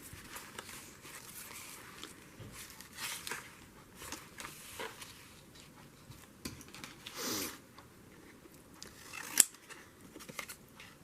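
Scissors cut paper for a junk journal in repeated close, crisp snips and rustles, with a brief louder crinkle of paper partway through and no talking.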